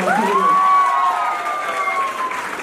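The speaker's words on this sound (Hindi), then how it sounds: "एक बार कृष्ण सर के लिए जोरदार तालियां बजाएंगे" Applause from an audience at a birthday celebration, with clapping and light cheering beneath a prominent sustained whistle-like tone that glides up and holds, fairly close and loud.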